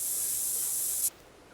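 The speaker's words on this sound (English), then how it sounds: "We're going to spray right quick." A scent spray in theHunter: Call of the Wild hissing in one steady, loud burst for about a second before cutting off abruptly, with no talk over it.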